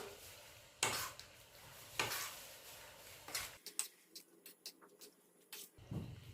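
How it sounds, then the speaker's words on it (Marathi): Cucumber koshimbir salad being stirred and mixed in a bowl, with a series of scraping, clinking strokes of a utensil against the bowl, close and fairly quiet, followed by quicker light taps with no talk. "हे सगळं मी मिक्स करून घेते अगदी मस्त होते ही कोशिंबीर"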